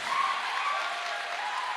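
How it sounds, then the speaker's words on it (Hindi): Brief burst of audience clapping at a health awareness program welcome, steady and fairly loud for its short length, with no talking over it. "जोरदार तालियां होनी चाहिए"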